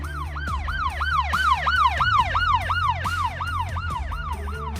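Loud wailing police siren from an unmarked Dodge Charger, rising and falling in a fast, steady cycle over road and engine noise, close by.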